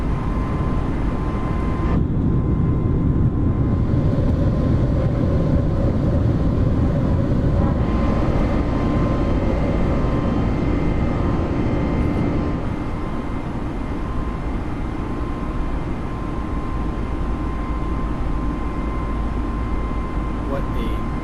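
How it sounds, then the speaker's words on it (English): Airbus A320 jet engines roaring steadily through takeoff and initial climb in Microsoft Flight Simulator, a loud continuous rumble with a faint tonal whine, the engine pitch settling slightly partway through, with a voice talking over it. "What a great departure. Nice takeoff."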